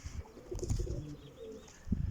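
Pigeons cooing in a loft, low throaty coos rolling in a couple of phrases, fairly close but soft, with light rustling around them.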